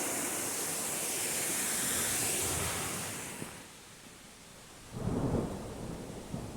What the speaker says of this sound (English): but I think we just heard thunder